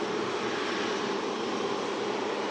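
An airplane at a runway, heard from a plane-spotting visitor park, gives a steady, fairly loud engine roar that holds without change and has no voices over it.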